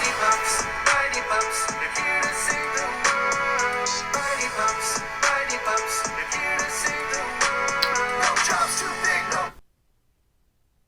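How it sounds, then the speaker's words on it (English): A trap remix of a Paw Patrol song as a ringtone: bass-heavy beat with bright synth melody and sharp hi-hats plays loudly and continuously, then cuts off abruptly into silence near the end. "what you just heard was a trap remix of a Paw Patrol song"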